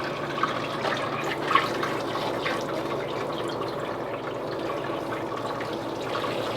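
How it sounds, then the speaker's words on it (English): Hot water runs steadily from a tap in a 2015 Tiffin Allegro RED 38QBA motorhome, a close, even splashing rush with a couple of faint knocks and no talk. "Let's check your hot water, see how that's doing."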